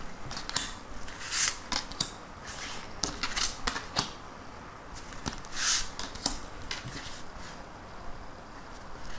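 Oracle cards that stick together slightly are handled and drawn from a deck nearby, giving crisp irregular clicks, flicks and soft shuffling snaps with brief pauses between them.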